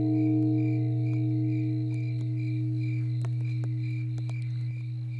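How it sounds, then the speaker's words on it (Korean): Crickets chirp steadily and evenly in the quiet at Dongchuksa temple in Ulsan's Dong-gu on Mount Magolsan, a continuous close pulsing trill over a low constant hum. "보니까 귀뚜라미 소리도 좀 들리는데"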